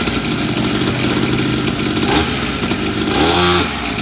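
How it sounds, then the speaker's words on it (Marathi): A new sports bike's engine runs loud and close, a steady buzzing roar throughout with a brief rise in pitch near the end. "हेल्मेट घातला आणि बाईक आता मी चालू करतोय."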